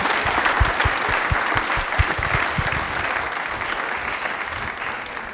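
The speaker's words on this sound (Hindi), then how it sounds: "जोरदार तालियां हो जाए भाई" A studio audience at a televised quiz show claps hard and steadily, a dense sustained wash of hand claps right after a correct answer, filling the whole stretch with no talk over it.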